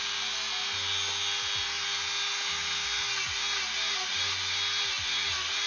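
Handheld rotary tool fitted with an 80 grit sanding bit grinding into foam, a high whining motor with pitch that dips and recovers as the bit bites into the material, continuous and close.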